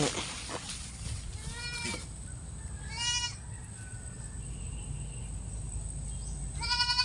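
Goats bleat several times over a steady outdoor rumble, their calls coming in separate bursts, some nearby and clear, others fainter.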